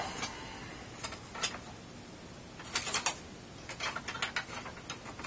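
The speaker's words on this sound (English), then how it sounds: "now I'm going to use this little raspy thing" A small hand rasp files at a screw hole in a plastic button housing, giving faint, scattered scraping ticks in short irregular bursts against quiet background noise.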